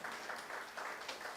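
Congregation at a Women's Day church service in Tirupur clapping together, a steady dense patter of many hands sustained throughout, fairly close and moderately loud.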